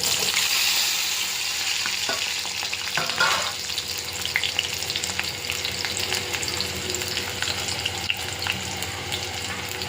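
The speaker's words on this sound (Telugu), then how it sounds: "ఆయిల్ మరిగిన తర్వాత ఉల్లిపాయలు, పచ్చిమిరపకాయలు వేసుకోవాలి" Onions and green chillies fry in hot oil, giving a continuous bright sizzle with occasional stirring clatter, close and unbroken, no speech.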